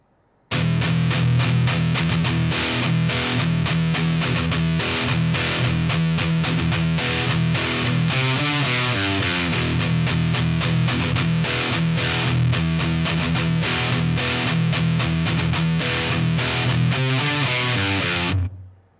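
A slow, heavily distorted electric guitar riff plays steadily and loudly for most of the clip, chugging low notes with sustained crunch, then cuts off.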